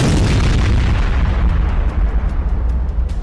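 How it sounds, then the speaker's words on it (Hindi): A loud, deep bunker buster bomb explosion booms and rumbles, then decays into a rolling roar with scattered crackles. "उन्होंने बंकर बस्टर के धमाके किए।"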